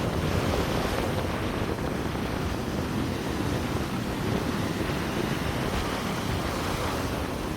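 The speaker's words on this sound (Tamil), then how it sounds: "கடல் அடின்னா சும்மா அப்படி அடிக்குது பாருங்க." Strong sea waves crashing on a shore where fishermen work, heard as a loud, continuous roar of surf with wind buffeting the microphone throughout.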